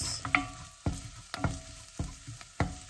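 Masala with Kashmiri red chili powder stirred in a pan for chole, a steady sizzle broken by about five sharp scraping strokes of the spoon at regular intervals, close and fairly loud with no talking.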